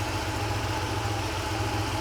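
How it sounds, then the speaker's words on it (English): A Porsche 911 with the 3.2L flat-six engine idles at around 880 rpm, a steady low, throbbing rumble with even pulses, heard close and alone without talk. "And it is idling, that's 900"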